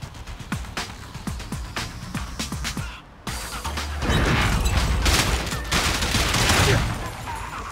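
Gunfire in the video game Zenless Zone Zero: a run of sharp, separate shots, a brief drop-out, then dense, sustained rapid fire with heavy booming weight, loud and close.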